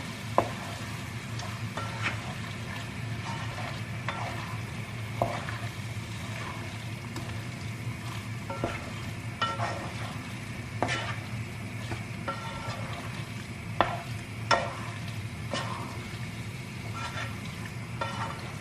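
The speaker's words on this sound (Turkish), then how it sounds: "O zamana kadar tekrar kavurmaya devam ediyorum." Mushrooms and tomatoes sauté in a pan with chili flakes, a constant close sizzle broken by repeated scraping clicks of a spoon stirring against the pan, no talking.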